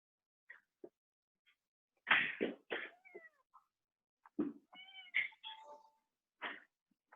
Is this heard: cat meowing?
yes